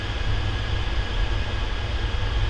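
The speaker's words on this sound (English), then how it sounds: "Engines have started." Avro Vulcan's Olympus jet engines running after start-up in a flight simulator game, a steady, loud low rumble with a constant whine above it, continuous and unchanging throughout.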